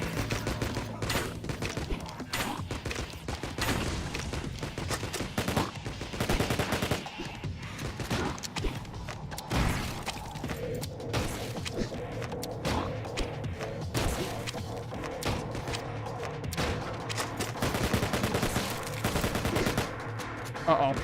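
Rapid bursts of automatic gunfire in the indie video game IVOR, dense and continuous throughout, with near, loud shots overlapping.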